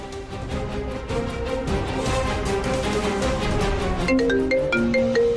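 A melodic phone ringtone plays steadily, with bright repeating tones growing more prominent toward the end.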